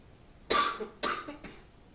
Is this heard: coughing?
yes